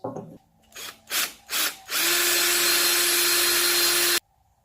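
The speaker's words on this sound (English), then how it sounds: "So now I gotta drill holes in those locations." A power drill drilling holes in a piece of furniture fires in three short bursts, then runs continuously at high speed for a couple of seconds before cutting off abruptly.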